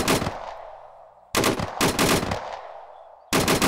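Loud automatic weapon fire in ARMA 3 during an assault on Zelenogorsk in Chernarus, with several sustained bursts separated by short gaps and echoing tails fading between them.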